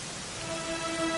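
Rain falls in the video game Dragon Quest XI as a steady, dense hiss that swells slightly, with faint sustained tones underneath.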